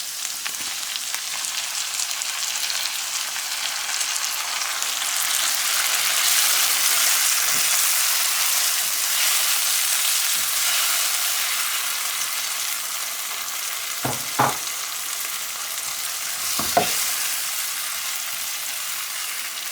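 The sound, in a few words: tomatoes frying with ginger garlic paste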